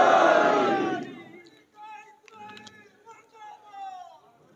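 An Ashura gathering crowd roars a loud chant against America for about a second, then it fades into a lone reverberant voice addressing the mourners.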